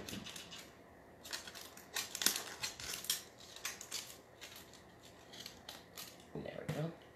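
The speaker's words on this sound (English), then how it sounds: "Try to get your scissors in there" Scissors snip jute on a handmade bunny shelf sitter, giving a run of crisp, close cuts in an uneven rhythm that sound scratchy and fibrous.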